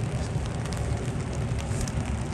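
Steady rain falls during an outdoor girls' varsity high school soccer match, a constant broadband hiss of drops with no breaks, fairly loud and close, no voices.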